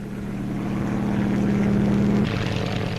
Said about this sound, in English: The Skeeter helicopter is a two-seater made by Saunders-Roe.